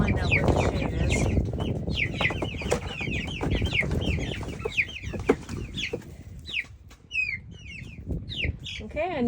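Cornish Cross and layer chickens, just moved out onto land, cluck and chirp in rapid overlapping calls close by, with a person speaking and rustling movement underneath.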